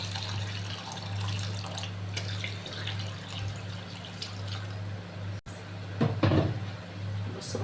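Water is added to a pot of simmering meat on a home stove, with faint pouring and splashing over a steady low hum, a sharp clatter midway, then a brief louder splash near the end.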